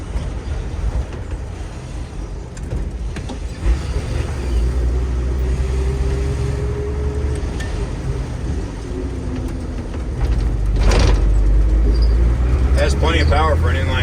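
A 1978 Chevy G20 van with an inline six engine drives along a road, its low engine and road rumble steady and loud from inside the cab, swelling near the end, with someone talking over it.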